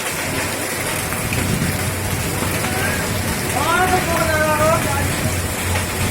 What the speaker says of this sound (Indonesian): Oh, di sini Sukaraja hujan es.